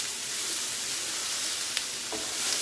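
Onions and mushrooms fry in a pan, caramelising with a steady, bright sizzle and hiss, broken by a couple of faint stirring clicks.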